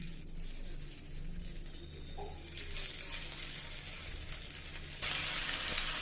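Marinated beef pieces sear in hot olive oil in a pan, giving a steady close sizzle and hiss that swells louder near the end.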